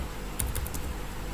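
A short burst of keystrokes on a computer keyboard while a caption is typed into an Excel login screen, a few quick, crisp clicks close by against quiet room tone.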